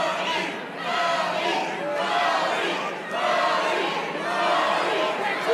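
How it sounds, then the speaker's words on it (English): A cage-fight crowd at a Caged Aggression title bout roars and yells in swelling waves, loud and sustained, with overlapping shouts and chatter throughout. "Crowd getting into it."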